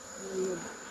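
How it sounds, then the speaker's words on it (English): Bees swarm at a beehive during an inspection in Nigeria, a continuous hum in a noisy outdoor setting with a brief louder drone swelling past midway. "There's a lot of bees, man."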